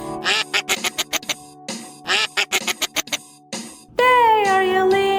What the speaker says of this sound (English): In his farm there are silly geese.